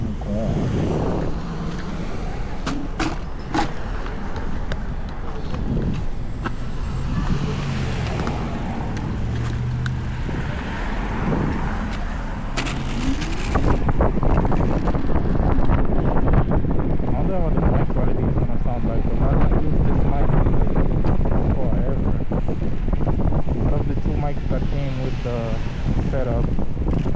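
A dual-motor electric hyperscooter ridden fast through rush-hour traffic, steady wind rush and road noise that grow louder midway, with a rider talking over it.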